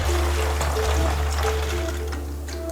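Water poured through a bottle cap used as a funnel, a steady trickling pour lasting a few seconds over a constant low hum, with no speech.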